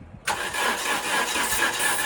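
A Dodge Omni engine cranks after a brief quiet start, the starter grinding loudly and continuously as the motor tries to catch.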